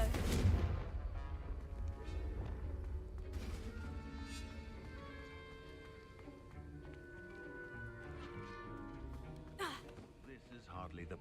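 Confringo fire spell blasting in Hogwarts Legacy, a booming impact burst up front followed by crackling combat sounds and a later sharp hit, with voices speaking over the action.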